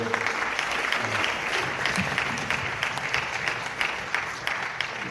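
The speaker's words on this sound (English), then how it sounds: "Another round of applause for" Crowd at a solidarity gathering applauding continuously, a full even roar of clapping that holds at steady loudness for the whole stretch.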